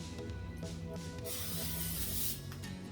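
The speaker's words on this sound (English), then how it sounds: "lightly coat the top of these, again, with the nonstick cooking spray." A short, steady hiss of nonstick aerosol cooking spray coating egg rolls, released in a few quick bursts with one longer spray in the middle, close and fairly soft.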